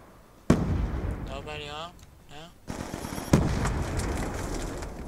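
Call of Duty Black Ops 2 game combat: a loud blast hits at half a second, someone speaks briefly over the rumble, then a second sharp explosion follows with lingering noisy roar.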